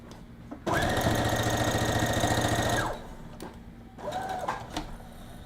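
A sewing machine runs through loose fabric in a loud two-second burst of steady stitching, then falls quiet before a shorter second run, close by.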